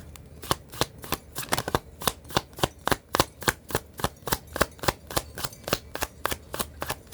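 Tarot cards are shuffled by hand in a long, even series of crisp flicking snaps, about three per second, close and clear, with no talk over them.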